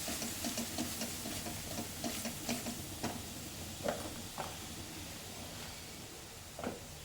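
Spiced gravy of turmeric, red chilli and coriander-cumin powder being stirred in a pan for stuffed bitter gourd, with faint scraping and clicking stirs over a low, quiet sizzle.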